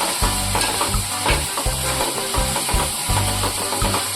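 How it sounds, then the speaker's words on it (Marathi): Onion and garlic sautéing in a hot pan for a prawn masala gravy, with loud continuous sizzling and rhythmic scraping stirs repeating every second or so, close and alone. "कांदा लसूण चांगला परतवून घ्यायचा आहे"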